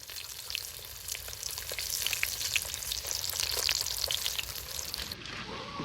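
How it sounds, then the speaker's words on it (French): Catfish fillets dipped in egg and flour sizzle in a disco pan, a steady, close, dense frying crackle that runs unbroken for several seconds with no voices. "On va essayer de se faire frire ça au disco, on va voir ce que ça donne le poisson-chat."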